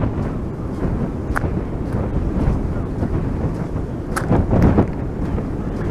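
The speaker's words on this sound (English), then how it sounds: "I don't like the wind in my ears, I really don't." Wind gusting on a beach walk near a pier, heavy steady rumble buffeting the microphone with brief louder gusts near the end, loud and close, with no clear talking.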